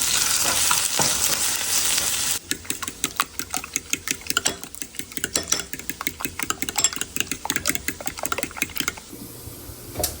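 Potatoes frying in a pan for breakfast, a steady broadband sizzle at first that gives way to rapid clicking, tapping bursts of stirring and pan contact, close and fairly loud with no talk.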